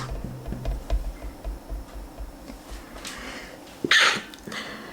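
A single sharp sneeze bursts out close by in a quiet room during a maths lesson, a brief loud broadband burst after low background hum and faint ticking.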